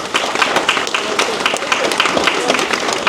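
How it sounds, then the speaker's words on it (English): A crowd claps steadily at the Polynesian Cultural Center on Hawaii's North Shore, dense applause with a few voices mixed in, continuous and fairly loud. "How about a round of applause for our talking chief?"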